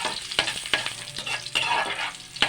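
Garlic and onion sautéing in a pan for a shellfish soup, a steady sizzle punctuated by repeated sharp clicks and scrapes of stirring, close up and without talk.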